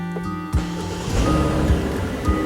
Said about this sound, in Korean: 시동 소리도 부드럽고요.